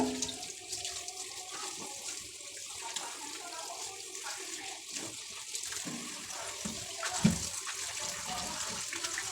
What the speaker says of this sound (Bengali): আমি আবারও শাকটা সুন্দর করে ধুয়ে নেব